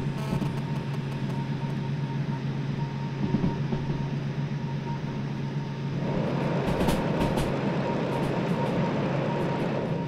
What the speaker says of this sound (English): We got a runaway train.